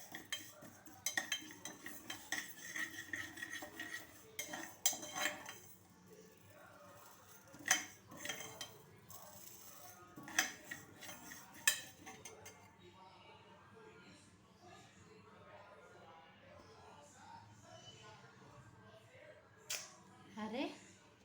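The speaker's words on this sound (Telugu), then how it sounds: "మనం ఇవి కొంచెం దోరగా అయిపోయేదాకా వేయించుకోవాలి" Moong dal is dry-roasted in a pan, stirred with a metal spoon that clinks and scrapes against the metal in brisk bursts for about twelve seconds. Quieter handling follows, with a voice heard faintly at times.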